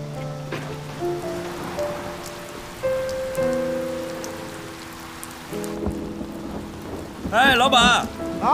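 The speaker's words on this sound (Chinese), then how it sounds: "下这么大雨" Heavy rain pours steadily with thunder, beneath a background of tonal music and a brief burst of warbling, near and fairly loud.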